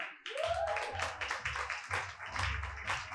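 A room of attendees at a leadership talk claps in a steady, rhythmic beat, each clap crisp and distinct, moderately close and fairly quiet.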